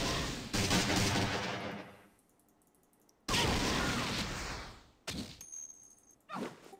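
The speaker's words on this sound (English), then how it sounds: "Shotgun." Shotgun fire in the Fallout Online video game: loud, heavy blasts with long rumbling tails, two big bursts separated by a quiet gap, then a couple of shorter, sharper shots.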